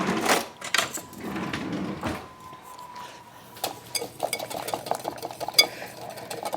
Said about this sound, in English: I think I'm going to whisk it